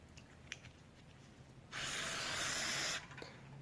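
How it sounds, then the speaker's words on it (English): A short burst of spray cleaner hisses through the body of a Briggs and Stratton 799866 carburetor, past the butterflies. It is one continuous, fairly loud spray of just over a second, with faint clicks before and after. "I like to give it one last spray through the inside of the carb body, all of the butterflies and all of that."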